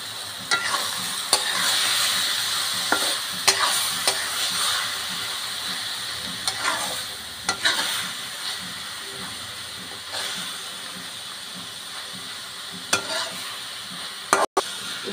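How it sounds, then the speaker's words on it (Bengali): Spinach frying in a pan with small shrimp, shredded potato and coriander leaves, under a continuous close hiss and sizzle; irregular scraping stir strokes recur throughout, with a sharp knock near the end and no voices. "দেখুন, আমি শাকগুলো উল্টে পাল্টে দিচ্ছি, আর একটু ভাজা ভাজা করে নিচ্ছি।"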